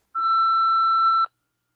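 A single electronic voicemail beep, a clean steady tone held for about a second before cutting off, alone and with no voices.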